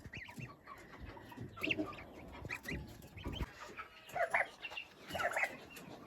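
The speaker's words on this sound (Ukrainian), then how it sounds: "такі у нас вже індики" Turkeys calling in short bursts, several gobbling and clucking calls from birds nearby, with farmyard background noise between them.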